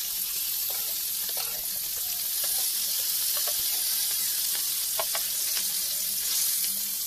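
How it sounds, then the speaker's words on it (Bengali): Snakehead fish frying in hot oil in a pan gives a loud, continuous sizzle and crackle, with scattered pops and the scrape of stirring, close up and with no voices. "এইভাবে আমি মাছগুলো সব ভেজে নেব"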